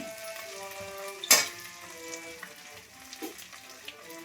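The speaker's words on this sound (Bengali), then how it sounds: "একটু ভেজে নিই, তারপরে আদা দেবো" Ginger and spices frying in a pan with a soft, steady sizzle, plus one sharp clatter from a utensil near the start and light stirring scrapes afterward.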